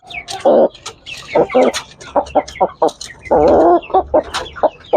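A Japanese Tanaka mother hen clucks close by in bursts of repeated, rhythmic clucks, with some other chicken sounds mixed in.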